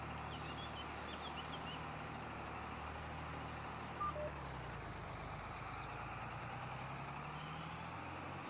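A tractor engine in Farming Simulator 25 runs at a steady, even drone throughout, with a brief higher blip midway and a faint whine riding above the low rumble; no talking.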